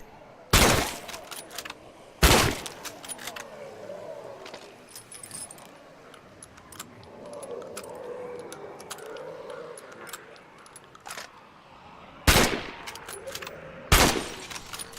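Four sharp gunshots from the zombie survival game State of Decay 2 ring out in two widely spaced pairs, loud against a low hum of in-game ambience.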